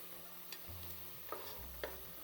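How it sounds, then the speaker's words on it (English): Onions frying and browning in a pan give a faint, steady sizzle, with a few soft scrapes and taps of stirring over a low background hum. "now keep stirring it every now and then, and now you wait for the onions to get nice and brown"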